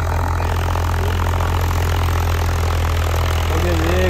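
A new Swaraj 855 tractor engine runs close by with a loud, steady, throbbing idle, and voices talk faintly over it.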